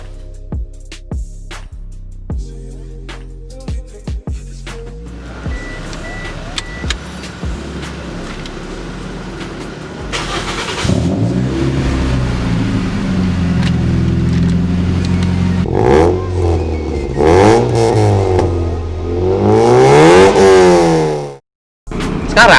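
A modified car's engine cranks and catches, then idles before being revved repeatedly, each rise and fall of revs loud and close, building to a hard blip near the end.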